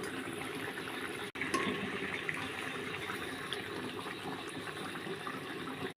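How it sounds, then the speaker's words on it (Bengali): Hot water is poured into a pan for a homemade rohu fish curry, a steady, continuous gushing splash lasting several seconds with two brief breaks. "দিয়ে দেবো গরম জল, এরপর ভেজে রাখা মাছগুলো দিয়ে দেব।"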